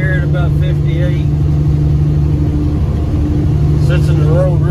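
A 2000 Peterbilt 357 truck cruises at highway speed, its engine giving a loud, steady diesel drone with a constant low rumble inside the cab, while someone talks over it.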